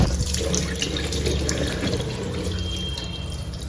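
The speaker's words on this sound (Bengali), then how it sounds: "ফার্স্টে আমরা করবো কি, ফার্স্টে জল নিয়ে" Tap water runs and splashes steadily as water is scooped up and splashed onto the face while washing, close and continuous with no talk.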